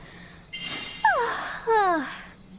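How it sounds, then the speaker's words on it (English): A drawn-out vocal yawn from a character in the video game World of Final Fantasy, with sliding, wavering pitch, followed by a second stretched yawning sound, both close and fairly loud. "You're making me yawn, too."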